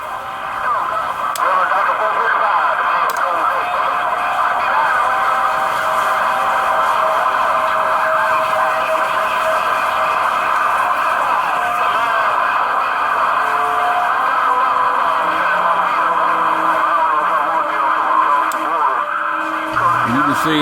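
A radio receiver tuned to channel 6 pulls in a strong signal, giving steady, loud midrange audio that sounds like voices and tones through a small speaker, continuous for the whole stretch.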